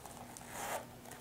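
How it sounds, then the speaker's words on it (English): A gold metal zipper on a Louis Vuitton Sarah wallet is drawn in one smooth, close pull, a soft ratcheting rasp that builds to a brief peak midway and fades. "metal zipper,"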